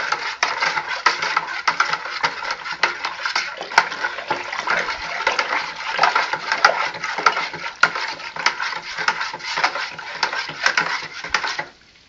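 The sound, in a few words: stirring sugar in liquid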